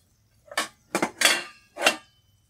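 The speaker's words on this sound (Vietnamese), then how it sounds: "Chuẩn bị nồi nước để hấp thịt." A cooking pot handled while water is readied for steaming vegetarian pork belly in a kitchen: four separate clanks and scrapes of metal cookware, close and moderately loud, with quiet gaps between them and no talk.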